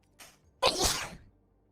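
A single human sneeze, a short faint intake followed by a loud explosive burst that tails off, heard alone and close.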